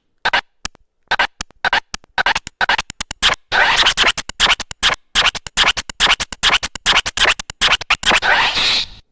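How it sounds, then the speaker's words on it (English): Automated scratching from the Merge FX function on a Pioneer DJ FLX6 GT controller, choppy repeated scratch bursts cutting a sample on and off in fast stuttering rhythm, loud and up front. "It never sounds like a natural scratch."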